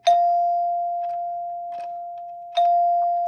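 A Heath Zenith door chime rings out two bright, sustained bell tones, ding then dong, each decaying slowly, close and clear with no voices.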